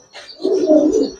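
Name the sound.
Giribaz coloring pigeons cooing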